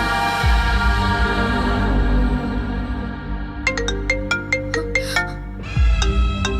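An incoming call sets off a phone ringtone, a loud melodic electronic tune of bright repeated notes over a low droning bed, playing alone with no talk.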